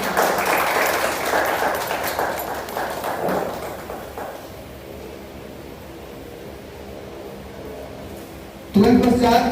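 Audience applause welcoming guests at the muhurat launch of Amlesh Nagesh's film Tena Tappar: a loud burst of crowd clapping that fades over a few seconds, with a voice speaking over it.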